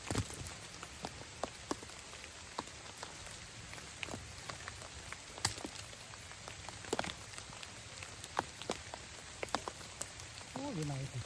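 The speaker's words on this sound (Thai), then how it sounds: "ฝนตกลงมา" Rain falls on surfaces outdoors during bamboo-shoot foraging in a rural area, a soft steady patter with scattered sharp drips and taps, faint and close, with a brief voice near the end.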